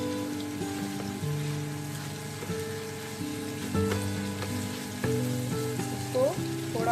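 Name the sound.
khoya frying in ghee for carrot halwa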